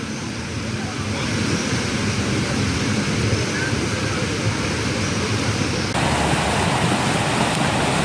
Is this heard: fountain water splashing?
yes